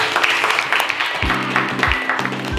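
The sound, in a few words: class applauding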